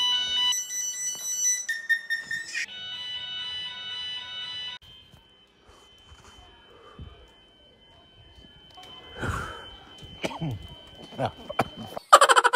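A shrill fire alarm beeps and tones in repeating bursts at 2 a.m., then cuts out, leaving quieter rustling, footsteps and a few voices.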